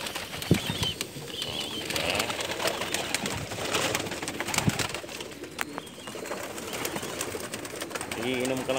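Pigeons in Umluj, Saudi Arabia, coo softly amid a busy loft, with occasional wing flaps and a low background of faint voices.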